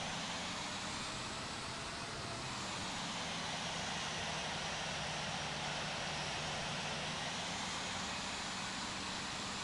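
An Airbus A380 jet of Etihad powers up for takeoff at Heathrow in the Infinite Flight simulator, a broad, steady engine roar with a rising whine, loud and continuous without voices.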